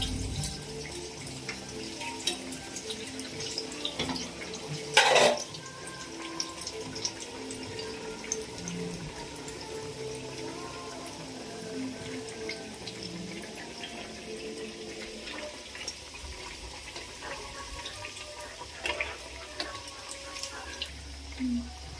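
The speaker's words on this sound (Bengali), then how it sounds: "খুন্তিতে করে এরকম ভাবে তুলে আর আমি ভাজবো লাল লাল করে" Bengali bhola fish cutlets fry in oil over low heat, giving off a steady, soft sizzle, with a brief louder clatter near the start and occasional small pops.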